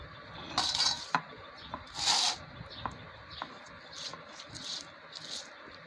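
Onions being lightly crushed by hand in a kitchen while preparing a spicy Bangladeshi bharta, heard as irregular soft thuds and scraping rubs, with occasional brighter clinks of hard utensils.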